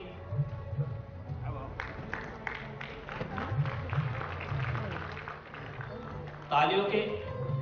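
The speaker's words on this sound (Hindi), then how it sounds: "तालियां बजती रहनी चाहिए।" An audience applauds at a ceremony honouring social organisations for their COVID pandemic work, continuous clapping under an amplified voice speaking, swelling louder near the end.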